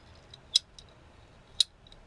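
Blades snip through shower hose tubing close to a barb fitting, two sharp, crisp cuts about a second apart with faint clicks between, close up and quiet.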